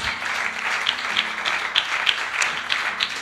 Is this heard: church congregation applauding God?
yes